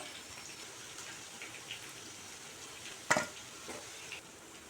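Taro root chunks frying crisp in a pan are stirred and turned, giving soft sizzling with a sharp scrape of the spatula near the middle and a few lighter knocks after, all fairly quiet.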